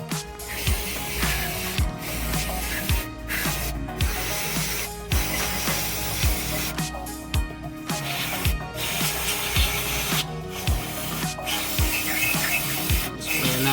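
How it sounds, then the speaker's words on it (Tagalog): Cleaner sprayed under a DA17V semi-wagon van onto the oil pan area gives repeated short hissing bursts between rubbing and scraping noises, close and fairly loud. "Sprayan natin itong ilalim."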